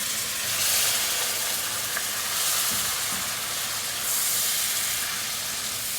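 Shrimp sizzle steadily in chilli garlic oil in a pan, a loud, close, continuous frying hiss that swells and eases slightly with no talking.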